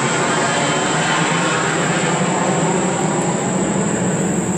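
An airplane passes overhead near an airport, a loud, steady broadband engine roar that holds constant throughout with no talking.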